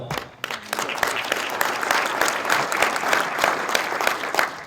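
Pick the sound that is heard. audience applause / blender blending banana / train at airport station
audience applause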